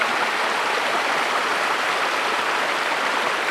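Steady rushing water of a small stream cascade where pans are being washed outdoors, a constant close wash of flowing water with no talk.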